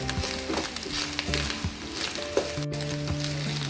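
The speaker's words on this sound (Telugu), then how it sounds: "ఇలా ఫ్రై చేసుకోవాలి." An egg frying in oil in a pan, a steady close sizzle with scraping stirs and a soft voice talking over it in places.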